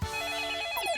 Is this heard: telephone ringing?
yes